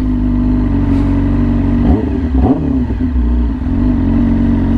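A Yamaha R6 sport bike fitted with an extremely loud aftermarket exhaust, idling with a steady throb and then blipping through a couple of sharp revs near the middle before settling back, close and loud.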